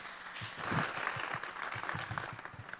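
Church congregation applauding during Sunday service announcements, a dense wash of clapping from many hands at moderate distance, swelling and continuing steadily without talk.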